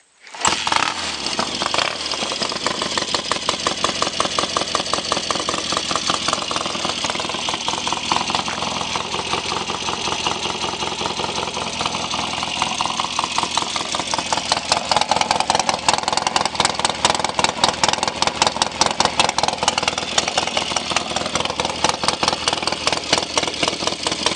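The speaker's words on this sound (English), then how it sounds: "This bike starts so easy, and it just runs so great." A 1970 BSA Thunderbolt 650 motorcycle engine fires up and settles into a steady, loud, close idle with a rapid even pulse that lasts throughout, with no talking.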